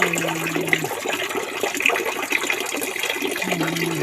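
Water from a small garden waterfall rushes and splashes steadily and close by, with no pause.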